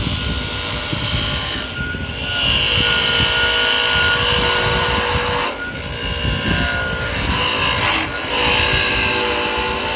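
Wooden mallet spinning on a wood lathe while the top is dished out, a loud steady motor drone under continuous scraping and rasping tool noise with a few brief pauses in the cut.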